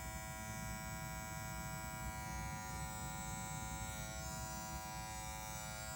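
TPOB Play electric shaver switched on and running, a steady close buzzing hum that stays constant and fairly quiet throughout with no talking.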